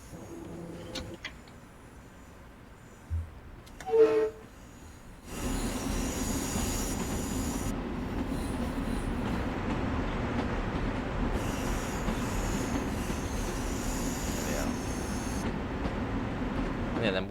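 A Long Island Rail Road M3 electric train in Train Sim World 4 starts after a few quiet seconds with brief clunks, then runs in a steady, loud rumble with a high wheel whine.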